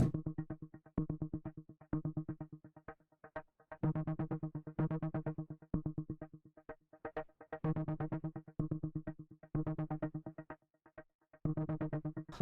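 A distorted synth plays a choppy, rhythmic pattern of short repeated notes with brief gaps, steady and fairly loud, no voices.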